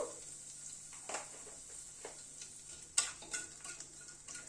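Spice tempering for a cabbage curry, a quarter teaspoon of asafoetida crackling in hot oil over a very low gas flame: a faint continuous hiss with a few light clinks and stirring scrapes, quiet and without voices.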